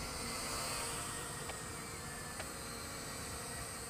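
Steady, high buzzing whir of a small ROX M23 drone hovering nearby, holding an even pitch throughout with no voices.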